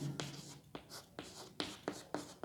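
Chalk or marker strokes on a classroom board during a physics lesson, a run of short scratchy taps and scrapes in an uneven rhythm, close and moderately loud, no voice.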